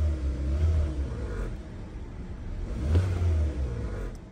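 A 2016 Kia Soul with a check engine light and a random multiple cylinder misfire accelerates on the road, a steady low engine drone with two swelling surges, heard from inside the cabin.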